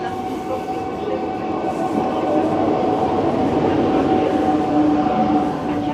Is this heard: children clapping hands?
no